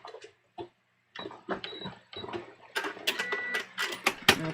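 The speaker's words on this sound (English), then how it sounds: "I'm just going to stitch right up straight through the binding now" Brief, stop-start bursts from a sewing machine stitching straight through the bias binding on the V-neck neckline of a dress, with small clicks and pauses between the runs.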